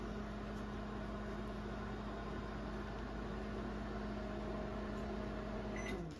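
A microwave oven runs steadily, warming freshly squeezed orange juice, giving a constant low mechanical hum and drone for the whole stretch, with a faint beep near the end and no talking.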